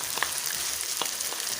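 Chicken frying with garlic-ginger paste and onions in a pan, a steady hissing sizzle with a few soft scraping stirs, close and even, no talk.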